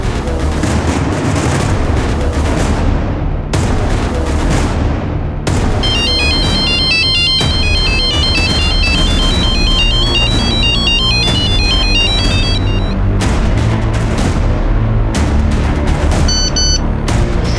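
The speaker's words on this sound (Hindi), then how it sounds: "सुजैन अपना फोन भी नहीं पिक कर रही है।" A mobile phone ringtone plays loudly and repeatedly over booming dramatic music, its bright melodic chime returning in several bursts across the stretch.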